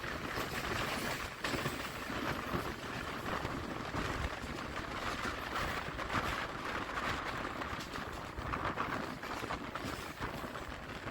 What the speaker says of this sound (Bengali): এটা one two eight nine six Puri Shalimar weekly superfast এই ট্রেনটা